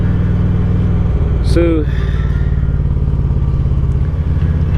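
A motorcycle engine drones steadily and close while the bike is ridden outdoors, a constant low rumble running the whole time, with someone briefly speaking over it.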